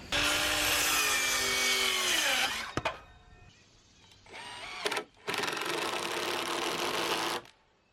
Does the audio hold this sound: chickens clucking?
no